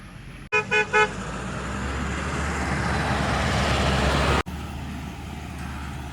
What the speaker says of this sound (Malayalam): ഇതൊക്കെ താഴേന്ന് കയറി വരുന്ന വണ്ടി കേട്ടോ